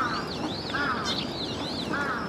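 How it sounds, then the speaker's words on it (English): Ducks quacking in Ueno Park, Tokyo, several repeated nasal calls rising and falling over a few seconds, moderately close, over a murmur of park background. "Told you there were lots of ducks here."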